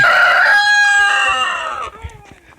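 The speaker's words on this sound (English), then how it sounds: "Here goes the chicken and rooster barn." A rooster in a farm chicken and rooster barn lets out one loud, close crow that trails off, followed by a few faint clucks.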